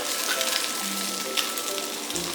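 Steady sizzling of sea bass frying golden in a flat non-stick pan, a continuous crackling hiss with small pops, fairly close.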